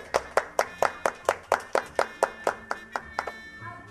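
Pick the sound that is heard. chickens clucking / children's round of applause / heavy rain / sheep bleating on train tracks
children's round of applause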